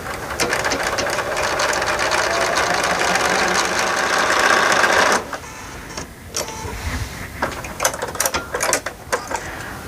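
A domestic sewing machine runs steadily for about five seconds stitching quarter-inch seams on quilt pieces, a dense whirring buzz, then stops and gives way to scattered small clicks and handling noises.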